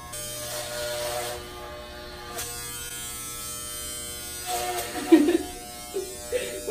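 Electric clippers buzz close by as they shave a man's head, a steady hum broken by short strokes, with a voice speaking briefly near the end.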